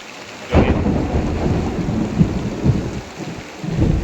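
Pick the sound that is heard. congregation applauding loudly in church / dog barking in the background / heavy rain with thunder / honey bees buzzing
heavy rain with thunder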